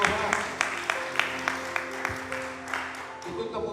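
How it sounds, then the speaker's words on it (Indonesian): During a Sunday church service, a congregation claps in a steady, evenly spaced rhythm, each clap distinct and fairly faint, over a sustained musical drone with keyboard-like tones. "Tepuk tangan untuk Tuhan."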